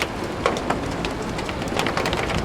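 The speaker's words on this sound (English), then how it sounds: "I like the rain sounds on the roof" Steady rain drumming on the roof of a train cab in a train simulator game, a dense continuous patter with occasional louder drops, no voices.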